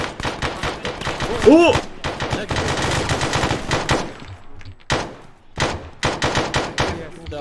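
Gunfire in the ArmA video game: loud, close bursts of rapid automatic fire with short pauses between volleys, and a voice exclaiming briefly partway through.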